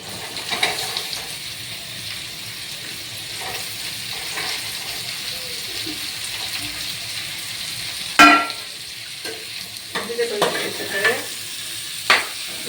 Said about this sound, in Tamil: நல்லா ஒரு டைம் நல்லா ஆயிலில் டிப் ஆகிற மாதிரி ஃப்ரை பண்ணிக்கலாம்.